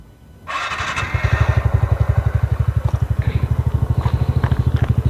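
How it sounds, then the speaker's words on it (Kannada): A TVS Ntorq 125 scooter engine cranks briefly and catches, then settles into a loud, steady, rhythmic idle thumping close to the microphone, with no talking. "ಈ ಬಟನ್ ಚಾಲು ಮಾಡಿದ ಕೂಡ ಫ್ಯೂಲ್ ಪಂಪ್ ಆನ್ ಹಾಕೈತಿ ಸ್ವಲ್ಪ ನಿಂದಿರಿ ಒಂದೆರಡು ಸೆಕೆಂಡ್ ನಿಂತ ಮ್ಯಾಗ ಗಾಡಿ ಸ್ಟಾರ್ಟ್ ಮಾಡಿರಿ"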